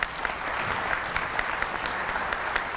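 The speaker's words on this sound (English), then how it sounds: "So let's give them a big round of applause" Audience applause at a kindergarten graduation ceremony, a steady wash of many hands clapping at moderate distance throughout, with no talk over it.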